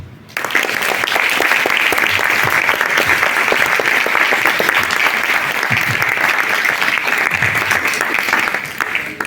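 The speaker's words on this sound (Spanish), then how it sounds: "Le damos un fuerte aplauso." Sustained applause from an audience at a panel discussion on women of ancient Rome greets a speaker, starting abruptly and holding as dense, even clapping for nearly ten seconds before it begins to fade.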